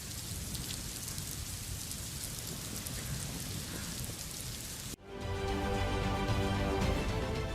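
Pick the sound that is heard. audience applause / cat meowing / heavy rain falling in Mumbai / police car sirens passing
heavy rain falling in Mumbai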